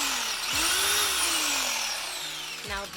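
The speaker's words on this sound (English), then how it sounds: "Drilling some holes there, looking like some ant piles." Power drill boring holes into a bathroom wall during a remodel, loud whining motor with pitch rising and falling as the bit starts and stops, two short spin-ups at the start and end, no talk.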